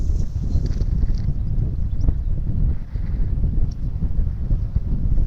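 Wind rushes and buffets across an open golf course, a steady low roar with gusty fluctuations close to the microphone.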